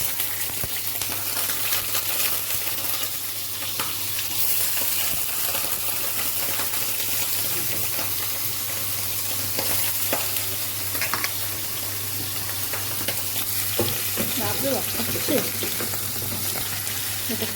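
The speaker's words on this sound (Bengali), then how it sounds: "এটা ভালো করে লাল করে একটু ভেজে নিই।" Washed freshwater snails fry in hot oil in a kadai, giving a loud, dense, continuous crackling sizzle with occasional stirring scrapes, close by and unbroken for the whole stretch.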